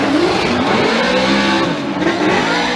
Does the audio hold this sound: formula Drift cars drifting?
yes